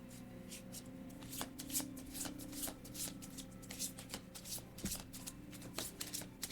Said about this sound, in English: I'm going to pull a clarifier with the oracle cards